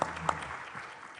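Scattered audience clapping at a city council candidate forum, a couple of sharp claps standing out near the start before the sound thins into a low, sparse patter.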